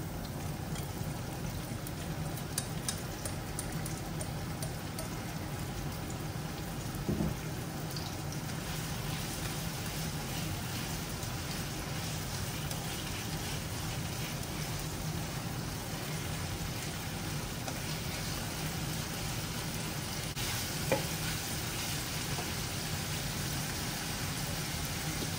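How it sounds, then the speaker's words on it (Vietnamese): Meat sizzles steadily in a hot pan with onion and garlic, a continuous close frying hiss with faint crackles and no speech throughout. "Cho thịt cho xào."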